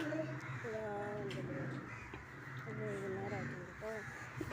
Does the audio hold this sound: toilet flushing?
no